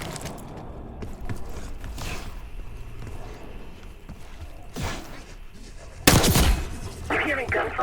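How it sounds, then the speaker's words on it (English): Gunfire from the video game Call of Duty Black Ops 6 cracks in scattered bursts, some muffled and distant, ending in a sharp, louder volley, over low rumbling game ambience with no voices. "You hearing gunfire?"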